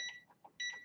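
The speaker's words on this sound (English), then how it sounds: "So go ahead and set your timer." A kitchen timer beeps in two short bursts of bright electronic tones, a gap of quieter background between them, heard close and alone while cooking chicken.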